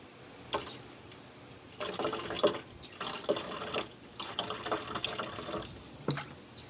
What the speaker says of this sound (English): let's just top up the expansion tank as well.